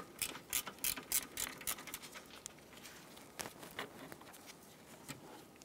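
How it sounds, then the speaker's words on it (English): A socket wrench with a 10 mm socket ratchets while loosening a battery terminal on a 2010-2016 Cadillac SRX, giving quick bursts of close, crisp clicking that pause and resume. "Using a 10 millimeter socket, go ahead and remove the terminal"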